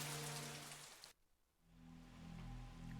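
Steady rain from the game Project Zero 3, a broad hiss that cuts out abruptly for a moment before returning, with a low hum underneath.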